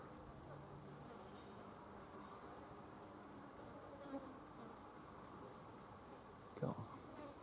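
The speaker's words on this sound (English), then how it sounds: "dozens of different species buzzing about" Bees and other insects buzz steadily in a summer garden planted for bees, a quiet, continuous drone with a few louder passes close by.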